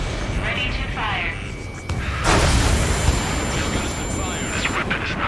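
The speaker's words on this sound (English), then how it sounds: "Keep firing those missiles until you blow him to pieces." In Ace Combat 7, missiles fire at an enemy aircraft over a constant jet-engine drone; a loud whooshing boom bursts in midway and rushing noise follows.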